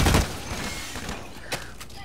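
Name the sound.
sniper gunfire in Blacklight Retribution, video game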